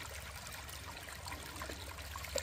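Water and gravel washing through a gold-panning sluice outdoors, a soft continuous trickle and rush with faint scattered ticks of material, quiet and even throughout.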